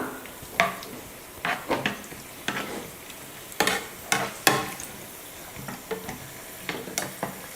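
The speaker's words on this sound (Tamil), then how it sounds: "உலர் திராட்சை சேர்த்துட்டு இதையும் நல்லா வறுத்துக்கலாம்" Cashews and dried raisins fry in a pan for sweet pongal, with a steady soft sizzle broken by a series of sharp, irregular scraping clicks from a spoon stirring against the pan, close and without voices.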